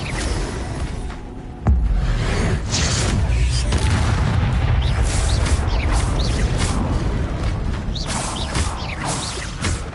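Fiery spell blasts from Incendio cast in Hogwarts Legacy, a sudden boom followed by a sustained roaring, crackling burst of flame with swooshing layers, loud and dense throughout.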